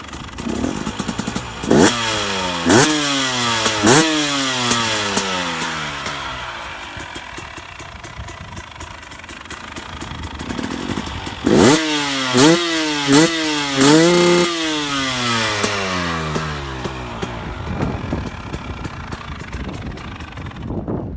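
A 2018 Husqvarna TX300 two-stroke dirt bike engine revs hard in repeated rising and falling bursts, close and loud, with a rattly idle between the throttle blips and a second run of sharp revs later.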